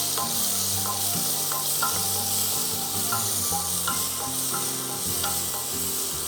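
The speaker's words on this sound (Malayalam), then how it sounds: "നമുക്കിതും നല്ലപോലെ ഒന്ന് സോട്ട് ചെയ്തെടുക്കാം കേട്ടോ" Onions sautéing in a pan for Kerala chicken mappas give a steady close sizzle and fry hiss, with occasional spatula scrapes and stirring clatter throughout.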